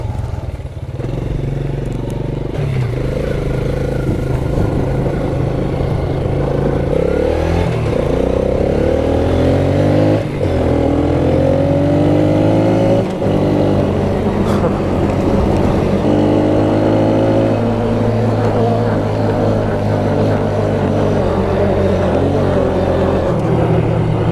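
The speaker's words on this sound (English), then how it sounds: "So we'll go blast down the sand road and do some drifts." A semi-automatic vehicle's engine revs hard and accelerates, pitch rising and falling through repeated surges as it drifts along a sand road, loud and close, with rattling underneath.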